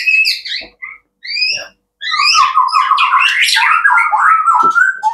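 A wild-caught white-rumped shama (murai batu) gives bright, varied whistled calls and squawky phrases, starting in short separated bursts with brief silences, then running into a loud, continuous warbling song close to the listener.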